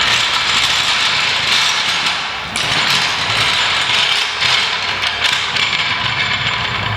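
Steady metallic rattling and clattering comes from a cart rolling over Swisstrax interlocking garage floor tiles for about seven seconds, with a brief dip partway through and no speech.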